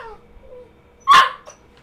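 A dog gives one sharp, loud bark followed by a fainter short yip in an otherwise quiet room, with no talking.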